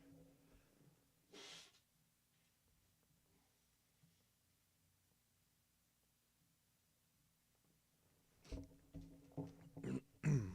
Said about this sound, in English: let me blow my nose real quick here